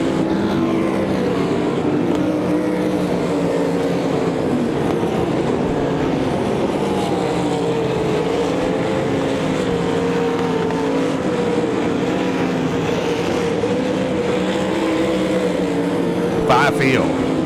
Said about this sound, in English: they are spaced out here at Devil's Bowl Speedway in the feature event for the sprint cars